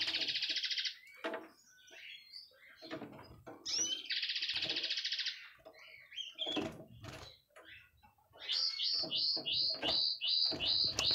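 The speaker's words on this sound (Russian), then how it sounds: "Сейчас вы слышите, фоном поет репел." A caged linnet sings in the background, with repeated bright chirps and buzzy trilled phrases in bursts, fairly clear and close among other small birds' calls, with no talking over it.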